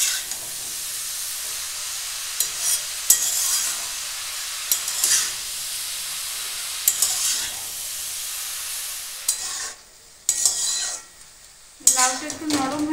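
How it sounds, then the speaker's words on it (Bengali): Bottle gourd sizzles in a pan as it is stirred until soft for Bengali shukto, with soft frying hiss, repeated scrapes and clinks of a utensil against the pan, and a brief quieter pause near the end. "লাউটা একটু নরম হওয়া পর্যন্ত নাড়তে থাকবো।"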